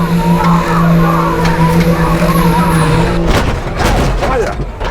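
A Challenger tractor pulls away on the track, its engine roaring loud and near with a steady tone that breaks into a harsh rumbling surge, while voices talk over it.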